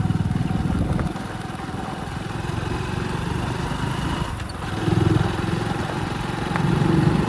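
A motorcycle engine drones steadily with wind buffeting, the rumble rising and dipping as the ride continues over a badly broken road between Firozpur and Amritsar.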